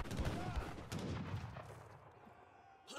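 Heavy cannons fire in a team-game strategy battle, dense overlapping booms and blasts that rumble loudly together and trail off toward the end.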